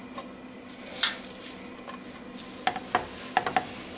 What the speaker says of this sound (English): start adding your chickpeas.